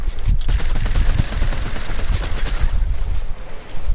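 Rapid gunfire in a video game, with loud bursts of shots in quick succession, heavy and sustained throughout with only brief dips in intensity.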